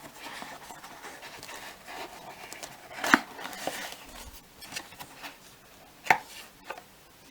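A strip of foam is cut for a doll backpack, with soft scraping and snipping sounds throughout and two sharp, louder cuts standing out near the middle and toward the end.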